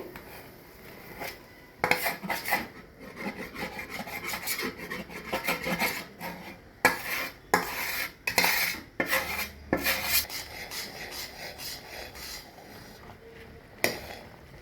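A spoon stirs rice-flour batter into a boiling pot of fish stew, scraping and rasping against the metal in irregular bursts with sharp clanks between strokes, close and fairly loud, with no talking.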